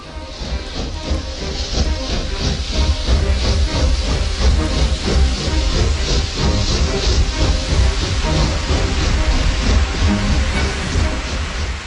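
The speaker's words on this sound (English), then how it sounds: "This rather beautiful locomotive is Planet, a replica of the very first one to run down these tracks in 1830" Planet, a replica of an 1830 steam locomotive, runs on the Liverpool and Manchester Railway, giving a loud, close, continuous rush of rapid chuffs and hissing steam.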